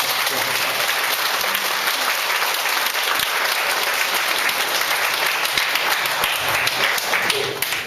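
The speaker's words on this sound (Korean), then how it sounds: "박수 환영합니다." Sustained, dense applause from an audience in a church welcoming a priest for a Pentecost talk, steady and loud throughout with no pauses.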